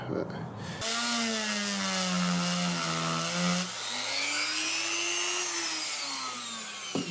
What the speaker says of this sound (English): I need to shave just a little bit out the body there, just a little semicircle